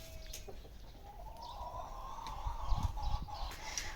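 Hens and a rooster on a small farm, with a newly added small hen that has lost her comb fighting the rooster, cluck and call softly at a distance amid low background noise, with a few brief rising calls.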